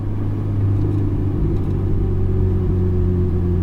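A 458 race car rolls into the pit lane at easy speed, its engine a loud, steady, close low rumble with no break throughout.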